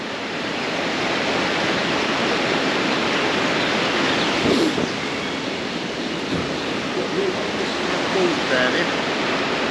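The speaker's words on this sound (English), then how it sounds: "That's a hell of a lot of water coming down there from the mountain." Loud, continuous rushing of mountain water gushing out of a wall, a broad roaring gush that stays steady throughout with no pauses.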